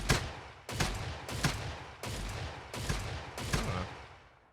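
A Saiga shotgun in the STALCRAFT video game fires six heavy, booming shots at a steady rhythm, each with a decaying tail, loud and with no other sounds.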